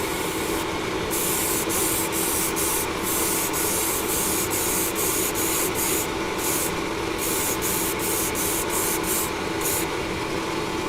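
Vallejo grey surface primer is sprayed as a coat in a steady continuous hiss, close and even throughout with no voices.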